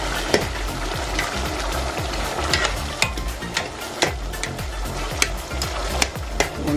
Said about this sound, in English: And now you're going to go in and stir.